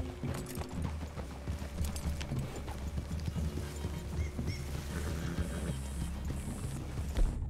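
Horse hooves clip-clop in a steady walking rhythm in the Red Dead Redemption 2 video game, several horses moving at close range over a quiet outdoor ambience with no talking.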